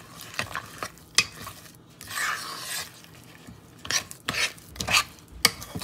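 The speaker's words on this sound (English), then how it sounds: "Now it's time for the chocolate chips. 120 grams of the chocolate chips. Mix, mix, mix." Chocolate chips being stirred into keto blondie batter in a bowl, giving irregular scraping and rubbing strokes with occasional sharp clicks of the utensil against the bowl, close and fairly quiet with no talking.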